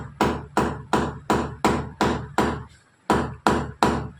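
A hammer drives a nail with about ten sharp, evenly spaced blows, loud and close, and one brief gap before the last few strikes. No one speaks.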